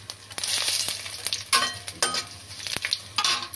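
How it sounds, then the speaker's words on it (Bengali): Cumin seeds, bay leaves and dried chilies crackle and sizzle in hot oil for a Bengali mutton kosha, with a steady close fry broken by several louder spurts and stirring scrapes, no voices. "একটু জিরা, আর তেজপাতা আর শুকনো লঙ্কা।"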